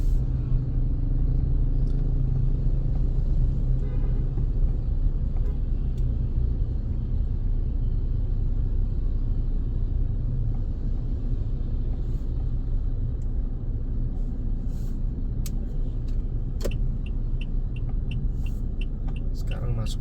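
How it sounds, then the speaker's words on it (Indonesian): Road traffic crawls in a jam entering Karawaci, heard as a continuous low engine rumble with faint horn-like tones and passing vehicles near the end. "Sekarang masuk Karawaci ini udah macet"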